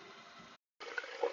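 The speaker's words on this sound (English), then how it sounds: "Now I'm just running the water." Tap water running through cabin pipes while flushing chlorinated water, a soft gushing flow that cuts off briefly and resumes, faint and close.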